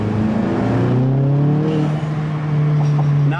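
A Volkswagen MK7 GTI fitted with an APR carbon fiber intake accelerates in second gear, its engine drone rising steadily and loud up close with intake whoosh, holding at a strong constant pitch with no shift.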